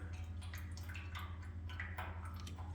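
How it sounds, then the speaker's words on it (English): Fuel dripping steadily from a fuel line under a 1989 Chrysler Conquest with a swapped engine, a run of soft irregular drips over a constant low hum in a shop. "So I don't know, this thing's still dripping away."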